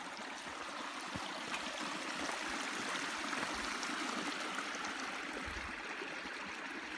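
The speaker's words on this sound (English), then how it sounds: "Nice river." River flowing beside a hiking trail near Cringle reservoir and South Barrule, a steady broad rushing and gurgling wash at moderate distance, fairly quiet and unbroken, no voices.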